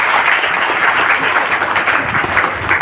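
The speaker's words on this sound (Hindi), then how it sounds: "ताली बजा दीजिए" An audience at a seminar claps together in one full, continuous burst of applause that stays loud and even from start to finish.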